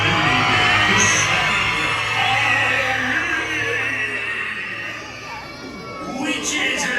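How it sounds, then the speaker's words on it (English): A large crowd on a Disney cruise ship's Halloween celebration yells and screams together, loud and sustained, with voices whooping over a dense roar of cheering. "So rise up your voices. Let me hear a loud scream."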